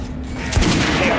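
Gunshots at a shooting range in the video game Metro Last Light, loud, close firing that builds into a sustained burst within a second, mixed with faint background game ambience.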